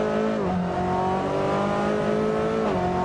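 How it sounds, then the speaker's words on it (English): A Ford Focus TCR touring race car lapping Donington Park circuit, its engine droning steadily at high revs with a brief dip and rise in pitch around gear changes, loud and continuous with no talking. "A Ford Focus from the TCR series will showcase a lap of modern Donington."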